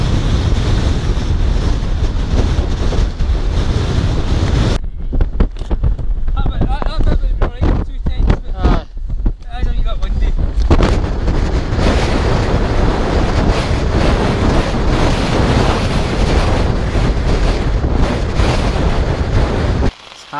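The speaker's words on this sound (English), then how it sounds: "it's a bit windy" Strong wind buffets the microphone on an exposed ridge in heavy rain, a loud continuous roar that drops away for a few seconds and then returns.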